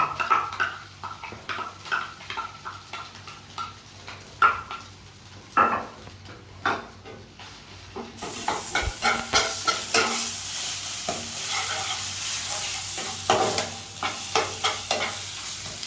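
Ground taro paste being stirred into a frying prawn mixture in a pan: repeated scraping strokes of a spoon against the pan over a soft sizzle of oil, close and irregular, growing busier and louder in the second half.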